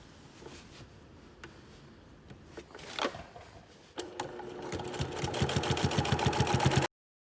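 A sewing machine runs an edge stitch 1/16 inch from the shoulder seams of a casual shirt. A few short bursts come first, then it settles into a steady, close, rapid stitching rhythm that builds in loudness until it stops abruptly.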